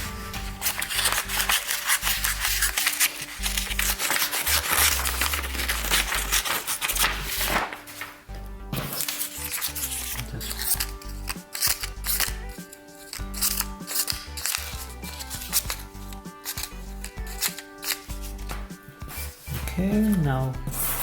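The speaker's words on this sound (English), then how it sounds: "first I'm going to cut this regular paper" A Leatherman Micra multi-tool's small scissors snip through regular paper in a long run of sharp, close, repeated cuts with rubbing and clicking of the blades, loud and up front with occasional pauses.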